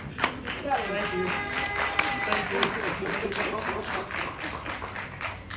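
Audience at a Rockdale town hall clapping together, a steady dense patter of many hands with a few sharper claps standing out, fairly close and continuous throughout.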